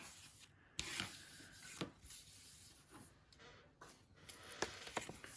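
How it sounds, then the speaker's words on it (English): Paper being trimmed for a scrapbook pocket from a 12-inch sheet, a quiet rubbing, scraping cut with soft irregular strokes and a few sharper snips, close up and faint. "I'm just going to trim it off and just get rid of that."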